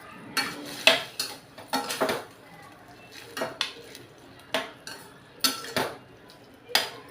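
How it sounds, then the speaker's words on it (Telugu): A spoon stirs rasam curry in a metal pot close by, giving loud scraping clanks in short bursts roughly every second, with quiet gaps between them. "శుభ్రంగా కలుపుకోవాలి."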